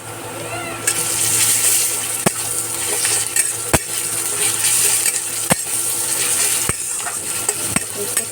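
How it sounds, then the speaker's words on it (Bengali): Fried onion and ginger garlic paste sizzle in a pan while a spatula stirs, sharp metallic scrapes and knocks landing at irregular intervals over the steady frying hiss, with faint talk in the background. "দেখুন, পেঁয়াজটা ভাজা হয়ে গেছে, এবার একটু আদা রসুনের পেস্ট দিয়ে দেবো।"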